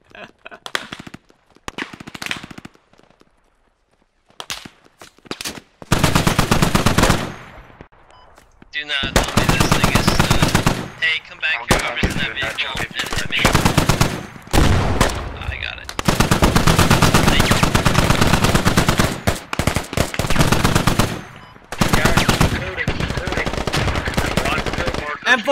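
Long, loud bursts of automatic machine gun fire fill a match of the Squad shooter game. The firing comes in sustained rattling volleys that are broken by short gaps, and voices talk between and over them.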